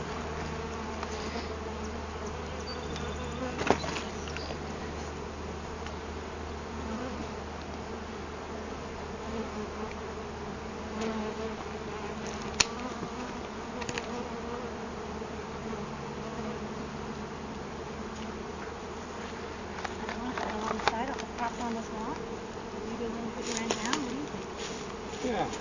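Many bees swarm around a bee tree, a steady, dense buzzing drone that carries through the whole stretch, with occasional louder passes as individual insects fly close.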